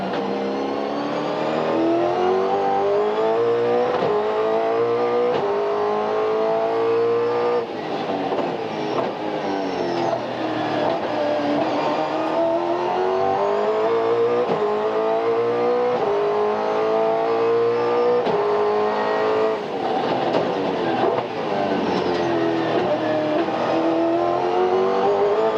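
Onboard engine of Greg Murphy's Kmart Holden Commodore V8 touring car racing at Winton Raceway in 2001, a loud sustained howl rising through the revs, dropping on gear changes and climbing again, with no talking.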